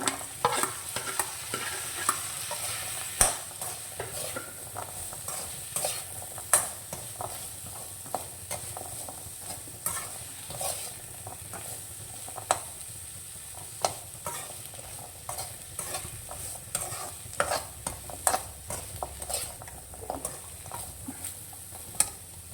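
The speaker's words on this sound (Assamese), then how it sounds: "ইয়াত দেখিছে এইখিনি মই ইয়াত দি ভাজিম" Jackfruit seeds with a little moong dal fry in a pan, a steady sizzle broken by frequent sharp clicks and scrapes of stirring throughout, moderately close and with no voices.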